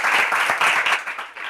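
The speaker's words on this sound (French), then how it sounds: "on peut les applaudir encore très fort." Audience applause at a Bible quiz, a short burst of brisk clapping that swells and then thins out within about a second and a half.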